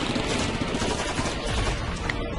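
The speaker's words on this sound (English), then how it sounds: "gunfire raged overhead" Rapid, dense gunfire crackles nonstop in a battle scene from the video game Sunrider Mask of Arcadius, a loud continuous barrage as soldiers storm an encampment amid flashbang explosions.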